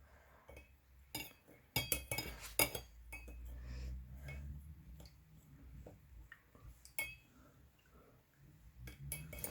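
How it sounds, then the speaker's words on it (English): A spoon clinks and scrapes inside a glass of cold water, stirring to dissolve something, with close, irregular metallic taps and swirling between quieter pauses, no talk. "we're going to start as I start stirring"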